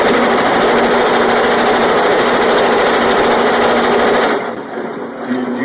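Tajima commercial embroidery machine sewing, a loud rapid mechanical chatter with a steady hum, running continuously before dropping off near the end.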